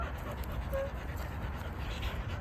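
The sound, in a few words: dog panting from tiredness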